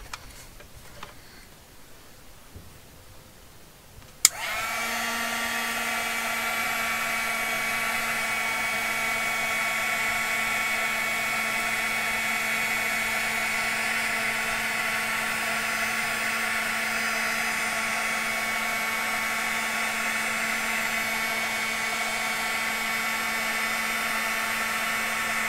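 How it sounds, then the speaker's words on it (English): A heat gun blows hot air over the cover of a handmade moth-themed journal. A click comes first, then a steady, constant whirring hiss with a tonal hum that runs unchanged for about twenty seconds. "And heat gun time."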